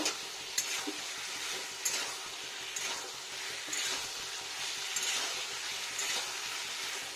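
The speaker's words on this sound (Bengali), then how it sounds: "ভালো করে কষিয়ে নিই পনিরটাকেও।" Paneer being sautéed and stirred in a pan for a vegetarian potato and pea curry, a steady sizzle with scraping stir strokes throughout, moderately close and alone without talk.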